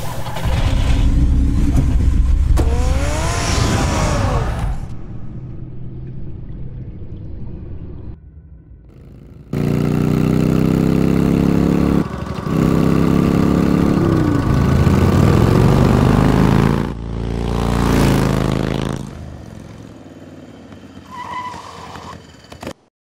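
Batmobile engine from Batman: The Telltale Series, a loud revving roar with a rising whine, cutting out and returning strongly before fading near the end.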